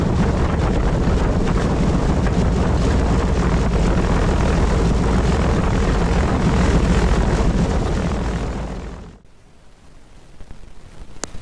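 A Beechcraft B-65 Queen Air propeller plane taxis on the ground, a loud, steady roar of engines and wind that drops away sharply near the end, leaving only faint background noise.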